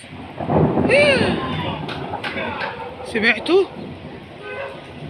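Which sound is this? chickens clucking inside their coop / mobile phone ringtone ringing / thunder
thunder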